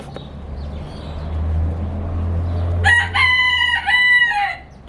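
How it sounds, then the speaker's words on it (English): A rooster crows in the morning, two long harmonic calls close together over a steady low engine rumble outdoors. "This guy over here getting his morning crows in."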